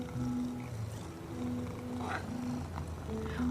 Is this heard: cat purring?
yes